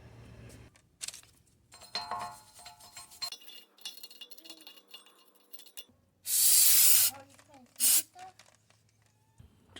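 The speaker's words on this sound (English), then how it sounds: "spray some of this Rust-Oleum rust protection" Rust-Oleum rust protection sprayed from an aerosol can onto a removed, warped brake rotor, two loud hissing bursts, a long one then a short one, amid garage clinks with someone talking.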